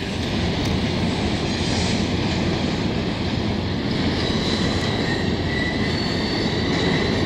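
CN freight trains rolling through a Montreal rail yard, a steady loud rumble of railcars and wheels on track throughout, with occasional faint squeals of wheels.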